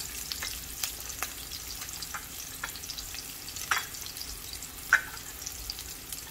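Garlic fries in a pan for red curry tuna, giving a soft, steady sizzle with small crackling pops and a few brief stirring scrapes, close by.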